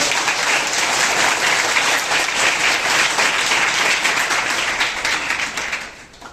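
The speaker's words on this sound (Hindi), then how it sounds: "तालियों की गड़गड़ाहट के साथ बहुत बहुत" A college audience of student teachers seated in a pavilion gives thunderous applause, a loud, full, sustained roar of clapping that holds for several seconds before tapering off at the end.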